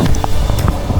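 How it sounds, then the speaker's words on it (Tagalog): Strong wind buffeting the microphone while riding a bicycle on a mountain road about 400 meters above sea level in the Philippines, a loud continuous rumble with gusty low thumps. "Grabe, lakas ng hangin."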